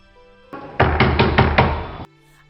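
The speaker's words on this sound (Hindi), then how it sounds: "अरे दरवाजा खोलो।" Loud knocking on a house door, about five firm rapid raps in a steady burst, close by with no talk over them.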